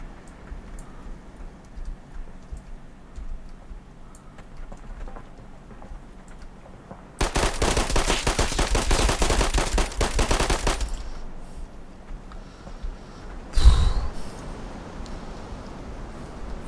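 Automatic rifle gunfire in the online survival shooter Fear The Wolves, a dense rapid burst lasting a few seconds that stops abruptly, followed moments later by a single sharp loud shot over quiet ambient background.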